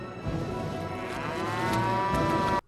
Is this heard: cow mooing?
yes